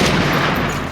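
Gunfire sound effect of armor-piercing rounds fired in a narrated superhero comic story, a dense, loud, continuous burst of shots and booms filling the whole moment without speech.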